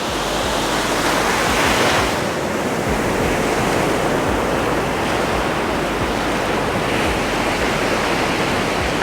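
Ocean surf on a beach at sunrise, a loud continuous wash of breaking and receding waves filling the whole stretch, with low wind rumble underneath.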